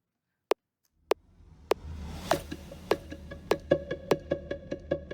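Synth plucks with no high-pass filter, from a plucked-strings instrument with a hushed strumming tone: three isolated plucks, then a faster rhythmic run of bright plucks over a full low-end body, with no voice.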